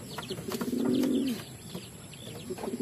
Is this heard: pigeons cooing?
yes